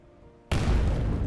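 A sudden loud explosion in a video game bursts in after a quiet moment, a deep booming blast with a long rumbling tail.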